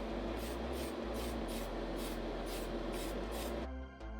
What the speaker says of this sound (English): it gets a second coat of primer.